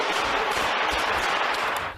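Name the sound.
gunshots fired inside a warehouse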